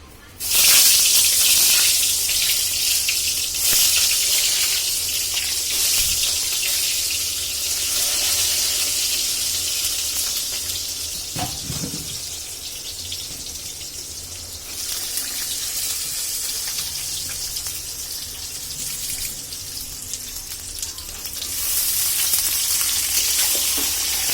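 Continuous loud sizzling of brinjal frying in hot oil with black cumin, a steady crackling hiss with a brief clink of a utensil partway through.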